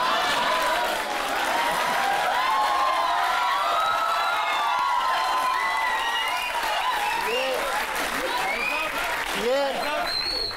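An audience at a Hindi comic poetry gathering applauds in a steady, even wash of clapping for about ten seconds, while voices talk and call out over it.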